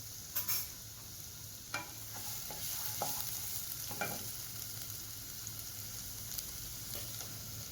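Finely chopped garlic and ginger sizzle in hot oil in a pan, with a few clinks of a spoon stirring. The frying hiss is close and steady, with no speech.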